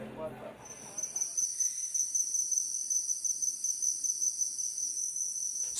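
Rainforest ambience dominated by a dense, steady high-pitched chorus of insects, constant and loud, with a brief mix of other forest sounds at the start.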